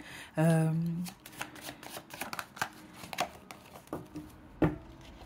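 Tarot cards are shuffled and drawn close up, with a dense riffling burst followed by scattered crisp flicks and slaps of cards, and a brief voice near the start.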